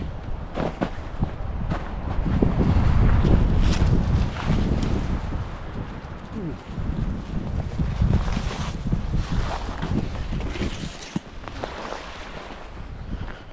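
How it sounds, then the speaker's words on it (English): Strong wind gusting across snowy mountain backcountry, a loud roaring buffet on the microphone that swells and eases over several seconds, with no talk. "Man, that wind's picking up."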